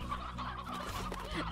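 Chickens cluck steadily in the Slime Rancher video game, a continuous busy cackling from a group of fowl heard close and clear with no talking.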